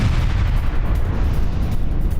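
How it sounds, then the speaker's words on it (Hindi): Heavy booming blast noise from a drone strike on a wounded Russian soldier in war news footage, a dense continuous low rumble with sharp bursts running through the whole short stretch, no talk. "घायल रूसी सैनिक पर ड्रोन से किया गया हमला"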